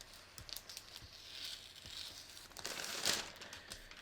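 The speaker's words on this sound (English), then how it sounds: "I'm just going to cut this off." Scissors cut through a paper sewing pattern along a slash line, giving soft crinkling snips and paper rustle that swell briefly near the end, close by and fairly quiet, with no talking.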